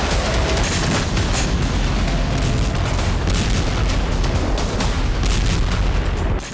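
Missile and drone strikes in Ukraine produce a loud, unbroken roar of explosions and heavy rumbling booms filling the whole span without pause.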